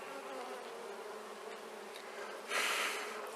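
Honey bees buzz around an open hive during an inspection: a soft, continuous droning hum that swells into a louder, brighter burst near the end, with no speech.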